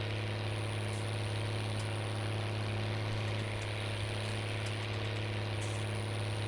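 An MB tractor engine idles in Farming Simulator 19, a steady low drone with a constant hum, close and unchanging throughout, with no voices.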